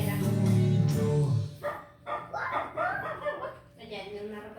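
A person imitates a dog barking, giving a few loud bark-like woofs up close, followed by chuckling and talk.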